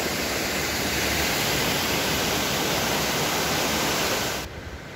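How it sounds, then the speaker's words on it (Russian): A waterfall in rural Vietnam roars as a dense, steady broadband rush, close and loud, running unbroken for several seconds and then cutting off sharply at the end. "водопад шумит"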